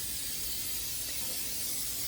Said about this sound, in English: So olive oil spray.